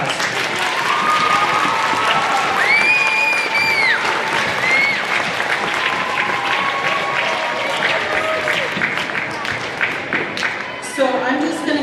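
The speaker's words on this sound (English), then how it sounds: "Let's give ourselves a round of applause." A school assembly audience of students and staff at a STEM Day event bursts into loud, sustained applause with cheering, a dense wash of clapping throughout, joined by a few high whoops and whistles partway through.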